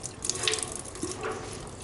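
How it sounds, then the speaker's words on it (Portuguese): Water leaks steadily from the thermostat housing of a Ford Focus during a test, a continuous close trickling and splashing with small drip-like accents. "Vamos ver se vaza água."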